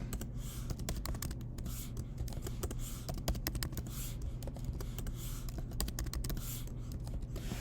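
Code being typed on a computer keyboard, a steady run of close, crisp key clicks with dense rhythmic tapping throughout and no talking.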